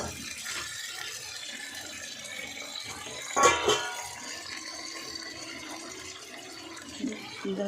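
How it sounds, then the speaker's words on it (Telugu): Water splashes briefly into a pan of drumstick leaf tempering midway through, a short pour over quiet kitchen background with faint clatter. "ఒక రెండు నీళ్ళు వేయాలి"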